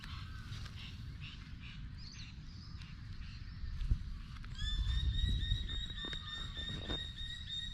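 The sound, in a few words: currawong calls in a video game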